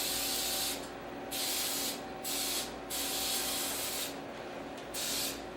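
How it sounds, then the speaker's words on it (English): Short hissing bursts of cooking oil spray into jars over a sink, five or six presses of varying length, close and steady against a background hum. "I like to spray this over my sink in case there's extra oil that flies out."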